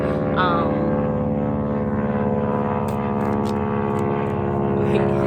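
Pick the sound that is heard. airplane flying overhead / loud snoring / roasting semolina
airplane flying overhead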